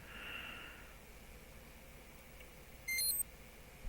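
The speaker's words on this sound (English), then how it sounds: "What was that beep about?" A short electronic beep from the Farming Simulator 25 video game, a steady tone lasting about a third of a second, faint and alone over a low background hum.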